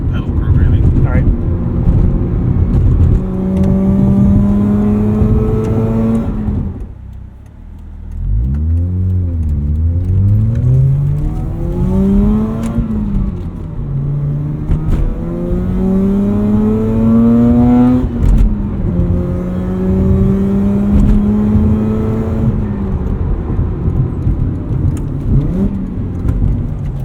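A 2009 Mazda RX-8 rotary engine revs loudly and steadily under acceleration, its pitch climbing through repeated sweeps with a brief dip between gear changes, heard from inside the car.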